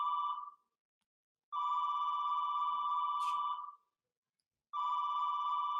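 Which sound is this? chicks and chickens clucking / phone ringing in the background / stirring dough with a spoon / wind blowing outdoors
phone ringing in the background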